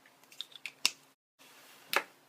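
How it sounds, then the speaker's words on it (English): Short mister bursts of Distress reinker mixed with water, sprayed onto frayed burlap: two or three sharp, close hissy spritzes with small clicks and handling noise between them and a brief dropout of silence. "Just spray a little bit in"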